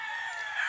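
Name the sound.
rooster crowing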